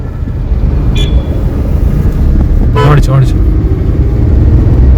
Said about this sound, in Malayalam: മഴയായോണ്ട് കുറച്ച് തിരക്കുണ്ട് മീൻസ് ബ്ലോക്ക് പോലെയുണ്ട്